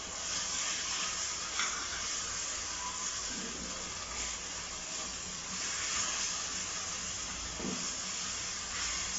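Red sauce with sugar, salt and spices frying in a pan for red macaroni pasta: a loud, continuous hissing sizzle that holds steady throughout, with faint clinks beneath and no speech.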